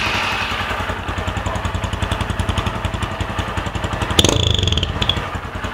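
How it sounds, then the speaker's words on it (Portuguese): Honda Fan 150 motorcycle with a short Torbal exhaust idling indoors, a loud, close, steady rapid thumping putter with a brief throttle blip near the end, no voices. "Se quiser, só pra ressaltar, ó, o barulho do escape, qual é que é."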